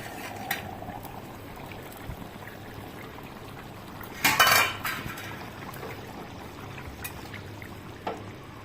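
The lid of a pot of soybean kofta and potato curry is lifted, giving one brief bright metallic clatter midway, set among faint kitchen clinks and a low bubbling simmer.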